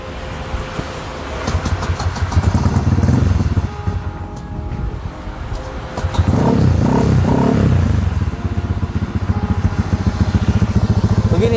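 A Honda Scoopy scooter with a swapped-in Vario 150 engine running loud and close, a steady rumble that rises briefly in the middle and then settles back to a rough idle.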